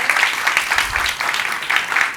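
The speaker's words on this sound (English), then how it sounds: "let's give a big round of applause" A crowd at a marketing business session gives a round of applause, a steady wash of clapping that carries evenly throughout with a faint voice underneath.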